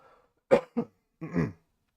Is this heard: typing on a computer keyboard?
no